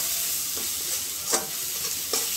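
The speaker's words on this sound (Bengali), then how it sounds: "দিয়ে একটু মিশিয়ে নিচ্ছি" Turmeric and chili being stirred into food frying in a pan, with a steady close sizzle broken by three soft scraping strokes of the spoon.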